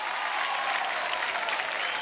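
A studio audience on Kaun Banega Crorepati claps in dense, steady applause throughout, close and even with no gaps.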